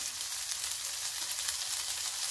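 Chicken breast fries in a pan over high heat as its liquid cooks off, giving a steady, close crackling sizzle with no talking.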